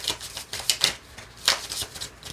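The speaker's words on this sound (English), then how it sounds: "This deck is hard to shuffle." A deck of playing cards is shuffled by hand with some difficulty, giving several crisp riffling bursts spaced irregularly, close and fairly loud, with no voices heard.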